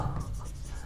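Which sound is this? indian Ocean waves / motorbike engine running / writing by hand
writing by hand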